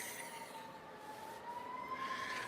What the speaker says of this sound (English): why is the sirens on?